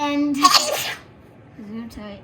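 A child's sneeze bursts out loud and close during a Christmas church service, with children talking just before and after it.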